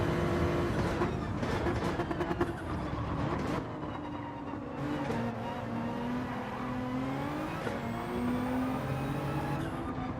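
Racing car engines roar and rev continuously in Gran Turismo 7 as cars overtake, the engine pitch sweeping up and down through gear changes, loud and sustained throughout.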